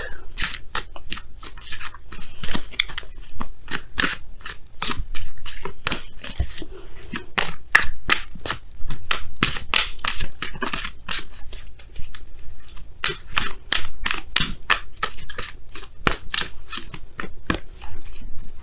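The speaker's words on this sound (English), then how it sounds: "let's go ahead and pull your Wisdom of the Oracle card" Wisdom of the Oracle cards being shuffled by hand at close range: a long run of rapid, crisp riffling slaps and flicks in bursts, with brief pauses between rounds.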